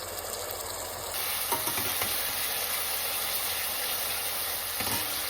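Ginger garlic paste frying and being stirred in a pan for homemade chicken curry, a steady loud sizzle with dense hiss throughout, scraped and stirred now and then, with no talk.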